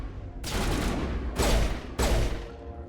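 Sustained gunfire in the sci-fi shooter Mass Effect, a dense fusillade of rapid shots with two louder bursts standing out, heard close and alone with no talking.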